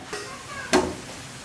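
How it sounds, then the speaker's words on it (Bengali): Whole onion, tomato, garlic and chili hit hot mustard oil with a single loud sizzling burst, fading into a soft steady crackle over low kitchen background. "গোটা পেঁয়াজ গোটা টমেটো গোটা রসুন গোটা লঙ্কা এবার ভেজে নেব"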